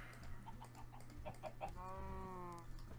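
Chicken in Minecraft clucking in a short run of clipped calls, then a longer drawn-out squawk, close and clear with no speech.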